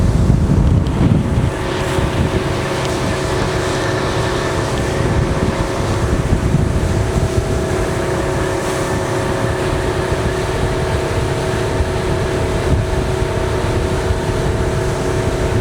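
A boat motors across Saint Andrews Bay, Florida, its engine a loud steady drone mixed with heavy wind buffeting and the rush of water against the hull, continuous throughout.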